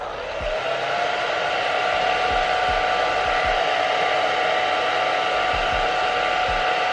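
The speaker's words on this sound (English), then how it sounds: "Every single time I lay a track, I grab the blow dryer." A hair dryer blows steadily the whole time, drying a freshly laid quick weave hair track on a cap, a constant airy whir with a few soft low thumps underneath.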